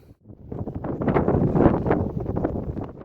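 Wind gusts across a microphone on Mont Gibaou during a sunny hiking break, a loud, continuous buffeting rumble that rises and falls, with no speech.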